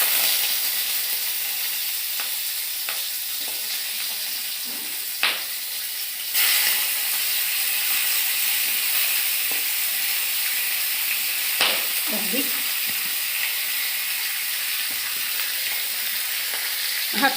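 Hilsa fish oil fries in a pan with a steady, dense sizzling hiss that runs throughout, close and even, broken by a few faint clicks and taps.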